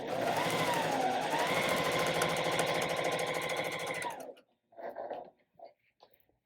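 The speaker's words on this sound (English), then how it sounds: "Sewing steadily is going to make it easier to not tug on my fabric." A sewing machine runs steadily through fabric strip sets, a close, even mechanical chatter for about four seconds, then stops abruptly and a few brief voiced sounds follow.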